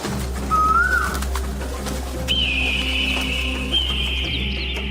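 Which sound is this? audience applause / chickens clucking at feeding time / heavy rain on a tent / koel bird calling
koel bird calling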